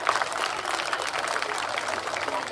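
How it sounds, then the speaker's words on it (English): Parents at a school annual prize day applaud the best students, producing a continuous wash of many hands clapping at fairly even volume, heard briefly and without speech. "And I request our parents, please give them a big round of applause."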